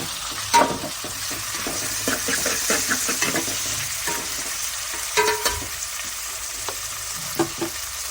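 Tomatoes and green chillies frying in a pan for gongura pulao, a steady close sizzle broken by repeated scraping stirs and a few sharp clanks of the spatula, with no talking.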